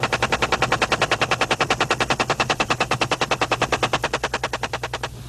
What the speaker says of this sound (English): No friendlies living in the area, so permission to fire is granted, and the escorting gunships race in.